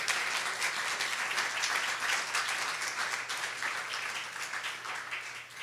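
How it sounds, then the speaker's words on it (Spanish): A church congregation at a retreat gives sustained applause, a dense, fairly distant wash of clapping that fades slightly over several seconds. "Dale un aplauso al Rey bendito."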